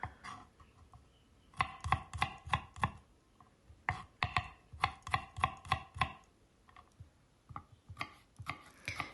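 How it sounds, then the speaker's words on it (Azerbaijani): Four or five garlic cloves are chopped with a knife on a board for red cabbage pickle, giving bursts of rapid crisp knocks in quick runs with short pauses between them, close and clear with no talking. "Dörd-beş diş sarımsağı da doğrayıram"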